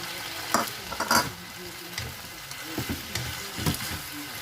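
Minced beef with mixed vegetables sizzling and being stirred in a hot pan, with scraping strokes of a utensil at irregular intervals.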